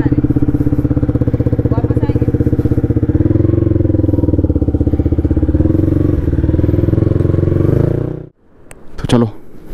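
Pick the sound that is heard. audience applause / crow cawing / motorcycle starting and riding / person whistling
motorcycle starting and riding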